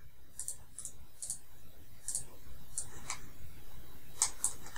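Mouse clicks on a computer during an online sign-up, a handful of sharp, light clicks spaced irregularly over a faint background hum, with no talking.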